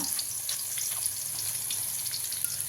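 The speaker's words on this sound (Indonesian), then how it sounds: "Nah ini udah agak panas, kita masukkan, kita tumis bumbunya" Spice paste sautés in hot oil, a close, steady sizzle and crackle with small popping bursts throughout, no voices over it.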